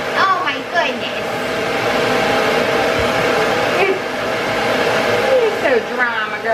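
A hair dryer blows steadily and close up while drying a Shih Tzu after a bath, its continuous whoosh lasting throughout, with someone talking and brief vocal sounds over it.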